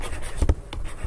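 Chalk or marker writing on a classroom board during a coordination chemistry lesson, a short scratchy burst of strokes near the middle, close and moderately loud with no voice over it.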